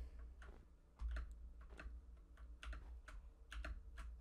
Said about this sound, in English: I feel like all you guys are hearing is like me clicking on my fucking keyboard.